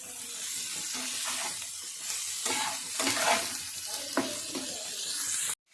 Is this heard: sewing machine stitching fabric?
no